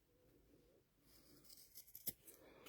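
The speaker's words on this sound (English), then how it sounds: "I'm just going to pull it out just a little bit and snip this off" Scissors snip batting out of the seam of a fabric cast iron pot holder handle, a few faint close clips near the end after a quiet start.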